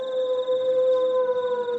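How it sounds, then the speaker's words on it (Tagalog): Eerie dog howl drawn out as one steady, sustained high wail lasting the whole moment, fairly loud and alone with no talk. "Napatingala ako nang marinig ang nakakatakot na alulong ng aso sa paligid."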